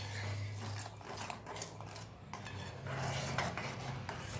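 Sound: spoon adding sugar to sago kheer

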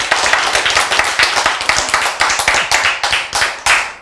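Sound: audience clapping hands

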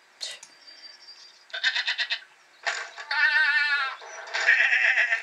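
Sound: goats bleating in a video game

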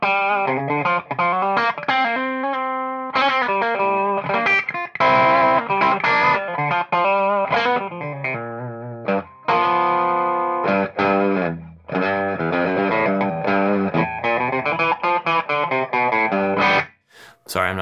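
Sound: Reverend Kingbolt electric guitar, chicken picking

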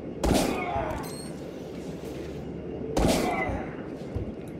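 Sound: sniper rifle shots in video game

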